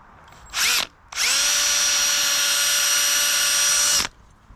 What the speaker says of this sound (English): This is a 3/32 drill bit.